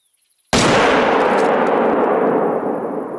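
One loud, close rifle shot fired while hunting an animal outdoors, with a sharp crack and a long rolling echo that slowly fades, after a few faint ticks.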